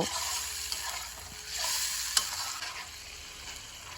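Fried potatoes stirred in a spice masala in a pan for a bitter gourd recipe, soft sizzling with scraping stir strokes and one sharp utensil knock, close and fairly quiet.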